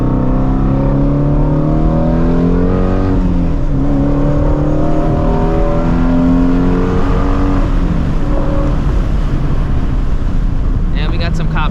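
A Ford Mustang Shelby GT350 engine revs through downshifts, its pitch swinging up and down in several blips under heavy wind rush from a moving car, with a voice heard faintly.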